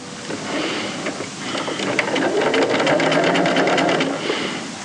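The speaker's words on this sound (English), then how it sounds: "So we'll take it to the machine. We do some top stitching." A sewing machine runs continuously at close range, top stitching a strapped cuff opening in matching thread, with a steady mechanical whirr and rapid needle clatter building through the run, no talking.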